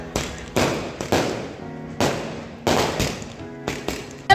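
Diwali firecrackers burst during a joint-family celebration, including ground crackers that fall and explode: about nine sharp, loud blasts in uneven succession, each trailing off in crackling decay, with no voices.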